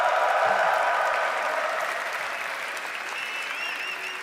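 A big arena crowd at an esports grand final bursts into dense, roaring applause that starts loud and slowly tapers, with faint cheers and whistles rising near the end.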